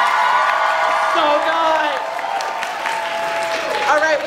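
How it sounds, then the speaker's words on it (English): Applause from the audience at an anime convention masquerade costume show, a steady crowd clapping throughout while a host talks over it close to the mic. "Let's do another round of applause really quick."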